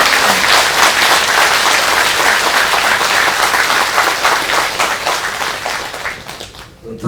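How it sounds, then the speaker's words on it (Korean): Audience applause at a Buddhist temple Dharma talk during a New Year all-night practice session, a loud, dense burst of many hands clapping close by that fades toward the end. "우리 마라난타사를 위해서도 박수 한번"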